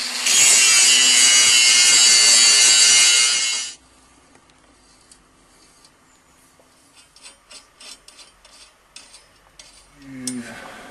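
A Damascus steel sword blade is abraded with coarse 60-grit, a loud continuous rasping scrape for several seconds that stops abruptly, followed by quieter scattered taps and handling sounds.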